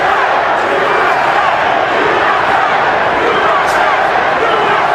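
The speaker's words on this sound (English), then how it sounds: "And you hear a chanting of USA." Boxing arena crowd at a title fight at the MGM Grand in Las Vegas chanting USA, a loud, dense and continuous roar of many voices filling the hall without a break.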